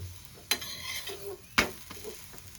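Aloo paratha fries in a pan as it is pressed down at the sides, with a soft sizzle and two sharp clanks of utensil on pan, and no talk.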